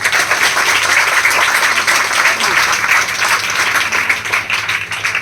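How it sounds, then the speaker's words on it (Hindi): A church congregation claps loudly and steadily for the Holy Spirit during a Hindi worship service, a dense continuous wash of applause with no speech over it. "आइए पवित्र आत्मा के लिए ताली बजाइए जोर से।"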